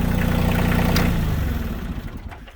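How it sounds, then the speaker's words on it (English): A Kioti CK2610 compact tractor's diesel engine idles with a steady low throb, then winds down and fades as it is shut off, leaving quiet clatter. "Now all you have to do is shut the tractor off."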